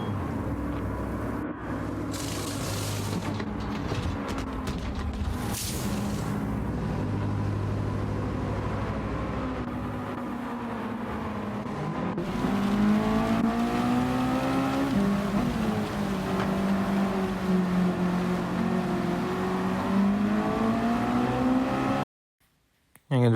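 Race car engines drone in Gran Turismo 7 during a wet race, a continuous loud engine note rising and falling through gear changes, with rain-like hiss and a sudden cut to silence near the end.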